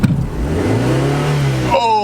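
A micro car engine revs high, with a strained, rising drone that holds steady close up, joined at the end by higher whining tones while voices talk over it.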